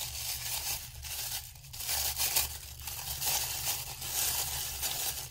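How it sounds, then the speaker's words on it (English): Tissue paper being crumpled into a ball and flattened out again for a DIY spooky spellbook craft, giving a steady close crinkling and crackling that runs for several seconds over a low hum. "We are going to crumple it up into a book."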